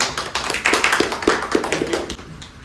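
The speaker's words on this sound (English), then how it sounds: "Can you clap?" An audience at a Toastmasters meeting claps after a speech, a close, brisk round of applause with distinct rhythmic hand strikes standing out from the crowd's patter, tapering off at the end.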